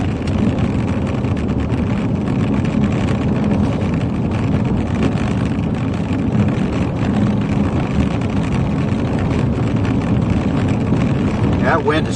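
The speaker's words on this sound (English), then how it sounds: "That wind is still pretty strong." Strong wind roaring steadily across an open plain during a wildfire outbreak, a constant loud rushing buffet that never lets up, with someone talking over it.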